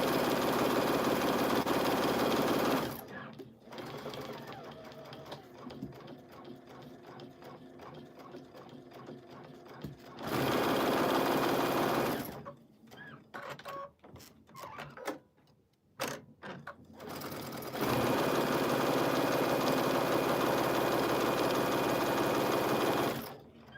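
A sewing machine quilting fabric, running loud and steady with a fast mechanical whir, stopping twice for short pauses filled with small clicks and handling noises before starting up again.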